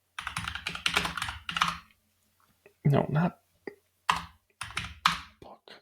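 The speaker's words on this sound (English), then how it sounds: "My typing is not being cooperative." Someone types on a computer keyboard in quick bursts of clicking keys, close and fairly quiet, with a person talking briefly between the bursts.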